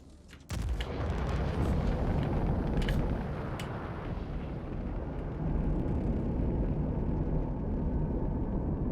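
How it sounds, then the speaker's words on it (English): An incoming torpedo in the space game Star Citizen, opening with a sudden loud blast, then a sustained heavy roaring rumble that stays dense and steady for several seconds, with a few faint high warning pings on top. "That's the torpedo back there with its warning that it's coming."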